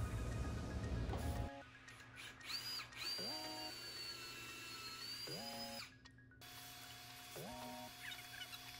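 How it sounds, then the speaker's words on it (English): A power drill with a countersink bit bores into wood while a dog bed is built. Several short whining bursts spin up and stop close by, with quiet pauses between them. "And now we start drilling."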